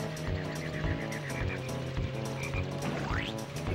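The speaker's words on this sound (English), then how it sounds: "You can squish frogs." Frogs croaking in the N64 racing game Diddy Kong Racing, a steady chorus of rhythmic croaks over looping game music, loud and continuous, with a rising whistle-like effect near the end.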